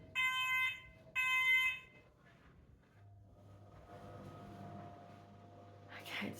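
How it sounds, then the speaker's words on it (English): A smoke alarm sounding a false alarm gives two loud, shrill electronic beeps near the start, then falls silent. A low steady hum and faint background noises follow, with a brief hiss at the end. "So it must be a false alarm or a small set off of something smoke-wise."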